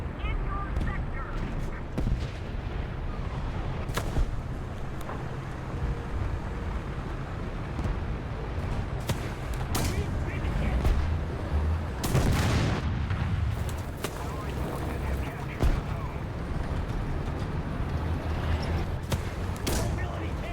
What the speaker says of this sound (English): Artillery strike in your sector.